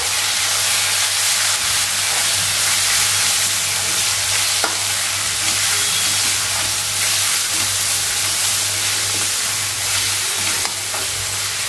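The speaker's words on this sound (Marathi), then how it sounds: "आता आपले मसाले सुद्धा व्यवस्थित परतून झालेले आहेत" Turmeric and homemade masala fry in oil in a pan for a drumstick and potato bhaji, giving a loud, continuous close sizzle with frequent stirring scrapes and no talk.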